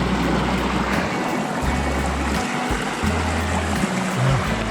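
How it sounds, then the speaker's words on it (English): Pure fresh spring water at Ein Prat in Wadi Qelt pouring from a pipe, a steady close rushing and splashing that fills the whole stretch evenly, with some low rumbling bursts from handling or wind. "this is it, the spring. So this is pure fresh water."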